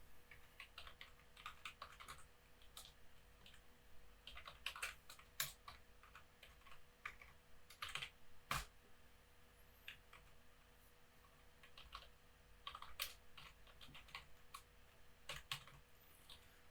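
Fast typing on a computer keyboard while writing code, with irregular bursts of clicky keystrokes and short pauses, close and fairly faint with no voices.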